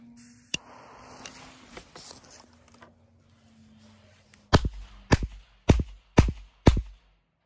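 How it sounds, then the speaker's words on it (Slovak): Dragon Booms firecrackers go off in a quick run of five sharp, loud bangs about half a second apart, after a single earlier crack and some quiet outdoor background. "Petardy Dragon Booms."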